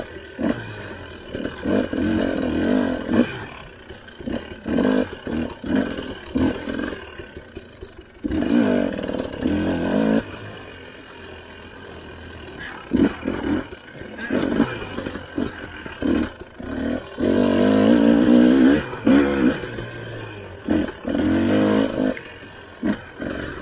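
An ATV engine revs and drones unevenly as the machine climbs through gears on a single track trail at an ATV park, loud and close, with surges and dips in throttle and someone speaking briefly over it.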